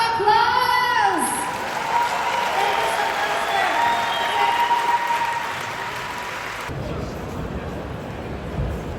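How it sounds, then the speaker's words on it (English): A Comic Con panel audience in Dortmund bursts into applause, a dense crowd clapping that holds for several seconds and then cuts off abruptly, with a brief high tone and a voice at the start. "A round of applause."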